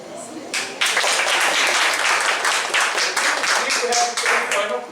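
Audience applause at a Brazilian literary event with a poet, scattered claps at first swelling into dense, sustained clapping from a crowd, with voices faintly mixed in.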